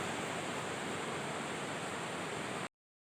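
Pulon Falls waterfall rushing as a dense, steady broadband roar, loud and close, running evenly then cutting off abruptly near the end.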